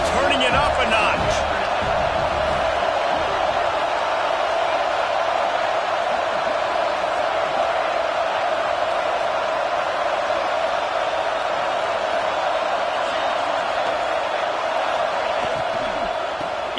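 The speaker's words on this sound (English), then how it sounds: "this crowd is turning it up a notch" Stadium crowd noise in an American football video game, a loud, constant roar building on second down, with play-by-play commentary running over it.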